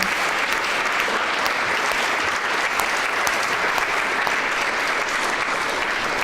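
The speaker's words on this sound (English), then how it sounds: "I want you to give all of our marketing team a round of applause" A large assembly audience claps for the marketing team at a university general assembly, a thick, unbroken roar of applause that holds steady and loud for several seconds with no talk over it.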